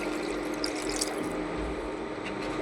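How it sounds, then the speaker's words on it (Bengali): Water pours into fried curry masala in a pan for a Bengali silver carp fish curry, giving a continuous rushing, bubbling wash of liquid, close and steady without pause. "এবার আমি জলটা দিয়ে দেবো"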